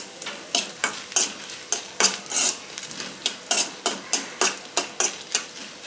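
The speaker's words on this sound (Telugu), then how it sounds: "మిరపకాయలు ఈ విధంగా మంచిగా ఫ్రై అయిన తర్వాత వీటిని వేరే ప్లేట్లోకి తీసుకుందాం" Dried red chillies fry in oil as a spoon stirs them in a pan, giving a rapid series of close, bright scraping clinks over a faint sizzle.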